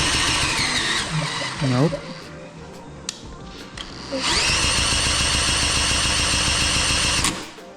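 A Briggs and Stratton small engine with no compression is cranked over and fails to start, whirring and rattling under a brief spoken word, with a squeal partway through and a longer loud cranking burst near the end.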